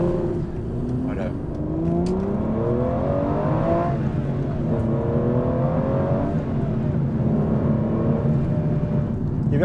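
A 2011 Aston Martin Vantage V12 engine pulls up a hill in a high gear, a steady loud drone with rising and sliding harmonics throughout, heard from inside the car with some talk mixed in.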